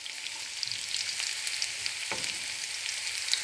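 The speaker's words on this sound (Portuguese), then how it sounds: "Deixa fritar um pouco." Boletus mushrooms fry with garlic in olive oil in a pan, giving a steady, soft sizzle with faint crackles and no talking.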